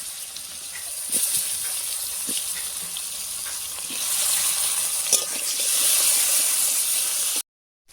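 Potatoes frying in overheated oil, added to the pan right after fish, give a steady bubbling hiss with a few sharper crackles, close and moderately loud, with no talk.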